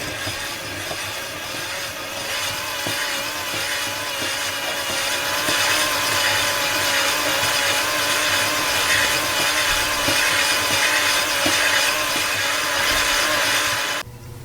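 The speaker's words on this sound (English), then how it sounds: "I got a hone. I'm going to go in there and just hone the hell out of it." Continuous abrasive grinding and whirring from a hone spinning inside a Briggs & Stratton engine cylinder, loud and steady for over ten seconds with faint rhythmic scraping, then stopping abruptly at the end.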